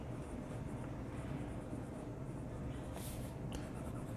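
A Moonman M600S fountain pen scratches across paper, a faint, soft, continuous rustle of nib strokes in a quiet room.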